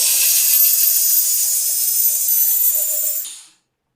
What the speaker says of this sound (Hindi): चलिए अब हम इस बोल्ट को खोल के देखते हैं।